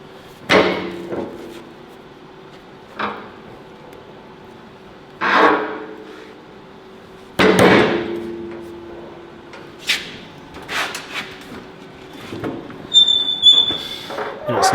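A steel guard piece for a wide-body 6x6 Land Cruiser being folded on a metal bender: a series of heavy clanks and thuds with metallic ringing, irregularly spaced, near and fairly loud, with scattered quieter knocks.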